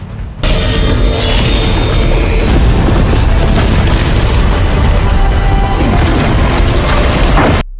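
A massive explosion as a giant dragon blasts apart the last guardian's defenses in an animated fantasy battle, one loud, sustained roaring boom that fills the whole stretch without pause.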